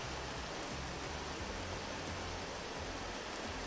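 Steady rain ambience from the Vintage Story video game forms a soft, even hiss with a faint low rumble underneath. It is continuous and fairly quiet, with no voices.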